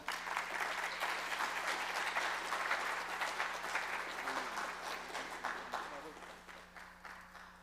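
An audience at a returning citizens summit applauds in a broad, full burst of many hands that holds strong, then gradually thins and fades, with a low steady hum beneath.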